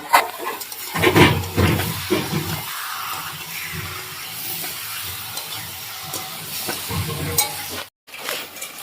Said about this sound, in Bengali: এতে এবার মাংসটা দিয়ে দেবো।